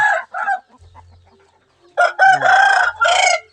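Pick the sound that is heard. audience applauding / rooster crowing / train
rooster crowing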